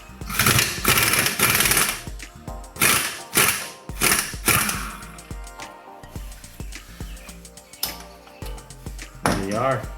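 Ratchet wrench with a 22 mm socket loosening front strut bolts on a car suspension, loud bursts of rapid ratcheting clicks repeating in short strokes with pauses between them.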